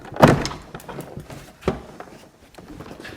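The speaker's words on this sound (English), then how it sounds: "I'm going to roll the panel up and remove it up from the window track here." A plastic door trim panel on a Dodge, Chrysler or Plymouth is worked loose and lifted off the window track, giving two sharp knocking thuds followed by quieter scraping and handling sounds.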